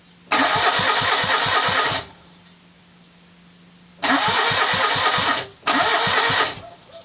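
A Citroen 2CV engine is cranked with the choke out in three separate attempts. Each is a loud, rhythmic starter churn with a brief catch, separated by quiet pauses, and the engine never settles into a steady idle.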